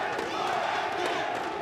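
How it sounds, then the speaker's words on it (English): A large arena crowd chants and roars continuously at a PUBG Mobile Global Championship grand final, a dense, steady wall of voices with no breaks. "The crowd is chanting for 4MV."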